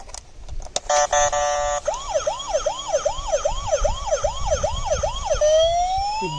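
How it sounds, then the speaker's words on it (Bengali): A colourful toy ambulance switched on, giving a brief electronic tone burst and then a loud, close, rapidly warbling siren cycling about ten times before it winds up into a rising wail. "এই দেখো, অনেক সুন্দর একটি অ্যাম্বুলেন্স রয়েছে, একদম সুন্দর কালারফুল। তো এটাকে আমরা এখন অন করে দেব।"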